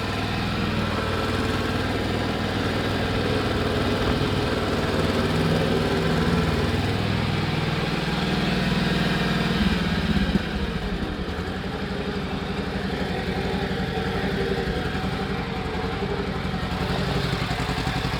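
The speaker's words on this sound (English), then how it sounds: "This engine idles nice and low too." A Wisconsin TJD engine repowering a Bolens 1250 garden tractor idles low and steady, a close, even mechanical chug that holds throughout with no talking.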